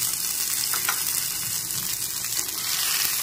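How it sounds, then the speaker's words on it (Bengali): Tomato pieces fry in a pan, a steady, dense sizzle running close and even throughout with faint stirring scrapes underneath and no voices. "একটু নেড়ে চেড়ে ভেজে নিচ্ছি"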